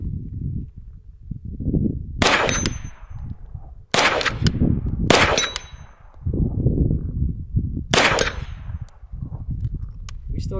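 A CZ Scorpion pistol fires four sharp, loud, close shots with a metallic ring, spaced unevenly over several seconds, with low background rumble between them.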